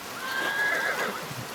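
A horse neighs in the video game Pentiment, a single drawn-out whinny rising and falling over a soft wash of rain, moderately close.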